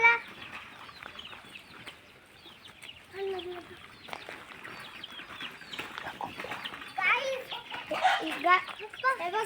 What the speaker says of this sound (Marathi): हे बघा कोंबड्या आहेत